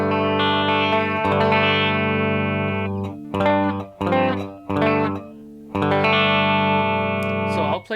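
An electric guitar with both pickups selected in the middle position rings out in sustained clean chords with light effects, broken by a few short choppy strums before a final long ringing chord.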